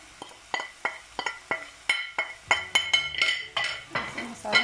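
Spices being stirred and fried in a pot for dhaba-style dal mash, with a spoon clinking and scraping against the metal in a quick, irregular rhythm over a faint background sizzle, close up and without speech.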